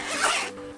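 Rose gold zipper on a Sony WH-1000XM4 headphone case being unzipped in one quick, close rasping pull lasting under a second.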